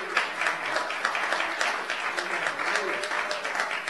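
A church congregation at a Palm Sunday worship service applauds the musicians, steady sustained clapping from many hands filling the room, with a few faint voices mixed in.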